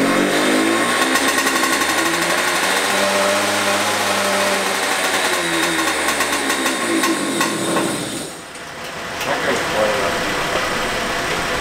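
Two-stroke racing go-kart engine running loud and steady with a buzzy, uneven drone that briefly drops off near the end before picking back up, with voices talking over it.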